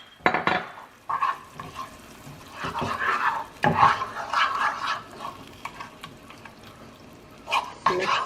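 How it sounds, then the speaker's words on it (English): A spoon stirs a tomato paste and broth mixture for meatloaf in a pot, giving irregular scraping and clinking strokes with short bursts and quieter swirling in between. "I'm just going to mix that all around."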